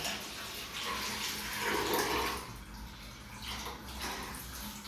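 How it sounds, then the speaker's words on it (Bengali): A child plays with water in a bathroom, making steady splashing and running water that holds at a fairly even level throughout, with no voices. "এই যে এখন উনি জল নিয়ে খেলা করছে খেলা কি বাথরুমে শুয়ে পড়েছে"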